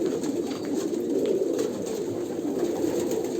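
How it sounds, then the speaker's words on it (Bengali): Homing pigeons kept for flying coo in a low, dense, continuous murmur, as if several birds are close together in a loft, steady throughout. "এটা হচ্ছে ডাইরেক্ট আমার আনা পায়রা"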